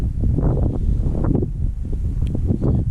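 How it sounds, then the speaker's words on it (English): Loud, gusty wind buffets the microphone in a constant low roar, with faint rustling mixed in and no voices. "It's a little windy."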